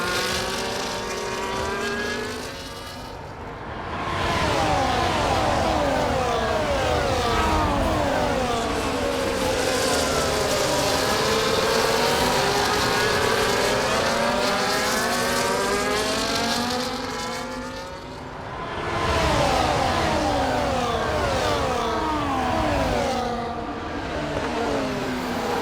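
Formula 1 race cars roaring through Interlagos in EA Sports F1 at the Brazilian Grand Prix sprint race, a steady high engine whine rising and falling through gear shifts, dipping briefly twice before climbing again.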